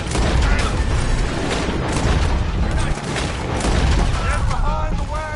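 Gunfire in Red Dead Redemption 2, with dense loud volleys of shots and booms running throughout amid a busy battle, with voices shouting over the fighting.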